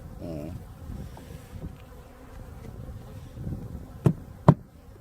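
Honeybees buzz around hives at an apiary in Sancheong-gun, a steady low insect drone under the scene, with two sharp knocks near the end.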